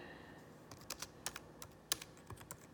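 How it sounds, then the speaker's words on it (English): Keys tapped on a computer keyboard while entering a school name into an expense report form, a quiet, irregular run of light clicks with short pauses between them and no talking. "School name, you're gonna have to type it in."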